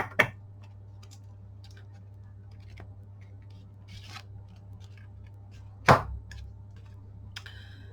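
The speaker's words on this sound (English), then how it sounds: "shuffling is always the challenge for me" A large oracle card deck, a bit bigger than a tarot deck, gets shuffled by hand. Soft papery rustles and small taps run under a steady hum, and two sharp card snaps stand out near the start and later on.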